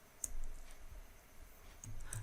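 Code being typed on a computer keyboard: a few soft, scattered keystroke clicks at irregular intervals, quiet and close, with no voice over them.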